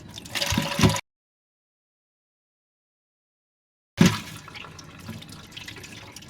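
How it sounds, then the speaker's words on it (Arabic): Warm tap water runs while frozen mullet is washed at a sink, a steady splashing stream heard in two short bursts separated by a long silent gap, with no talking. "هغسل بقى بميه دافيه، مش ميه سخنه، ميه دافيه"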